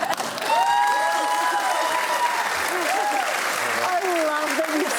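A television studio audience applauds in a steady, dense wash of clapping that fills the whole stretch, with people talking over it throughout.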